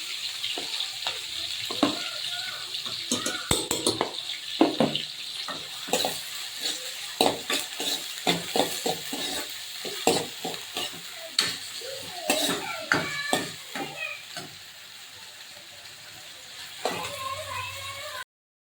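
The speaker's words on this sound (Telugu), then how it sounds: "ఈ ఆనియన్స్ గోల్డెన్ కలర్ అయినంత వరకు ఫ్రై చేయాలి" Onions with green chilli frying in oil for pav bhaji masala, a steady sizzle broken by repeated spatula scrapes and stirring clatter against the pan, fairly close.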